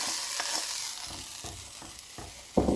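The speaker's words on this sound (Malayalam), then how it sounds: "ആ കാഷ്യൂസ് ഇത് പായസത്തിലേക്ക് നമുക്കിട്ട് കൊടുക്കാം" Cashews being stirred into Kuthari payasam, a soft scraping stir with gentle sizzling, repeated in slow strokes and ending in a louder clattering scrape, close and fairly quiet.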